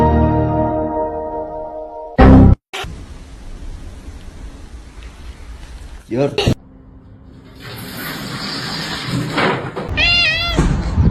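A kitten meows, first in a tonal call at the start and later in a series of high, quick mews near the end, mixed with thumps and people talking nearby.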